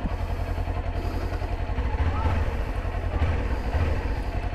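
A 2023 Kawasaki Ninja 400 motorcycle engine running with a low, steady rumble close by, while someone talks over it.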